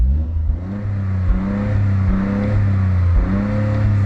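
A Toyota GR Corolla engine revs repeatedly up to its 4,000 RPM soft limiter, loud and close, with rising surges that fall back several times in a steady rhythm, no talking.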